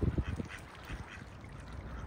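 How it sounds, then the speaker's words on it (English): Ducks and seagulls gathering for food at the water's edge: a flurry of close quacks and honks at the start, easing into a softer, continuous squabble of birds. "I think I've pretty much got the attention of all the ducks."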